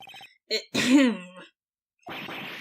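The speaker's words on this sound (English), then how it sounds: "Maybe I should clear my throat?" A short vocal throat-clearing in Phoenix Wright: Ace Attorney, a gruff guttural rasp lasting about a second, set between brief game-style sound effects with a pause before more noise.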